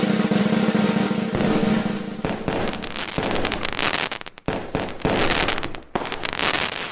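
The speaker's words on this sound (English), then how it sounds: "I want fireworks right here." Fireworks crackle and pop continuously in a loud, dense barrage with rapid bursts and brief dips, no voices heard.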